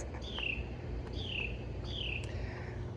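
A garden bird in the morning repeats a bright, falling whistle three times at a steady pace, loud and close above a low, steady background hiss.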